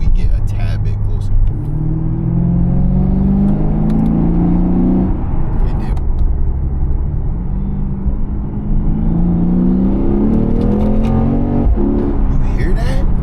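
A 500-horsepower Lexus RC F exhaust drones loudly from inside the moving car, rising and falling in pitch as it accelerates and shifts, a continuous close engine rumble.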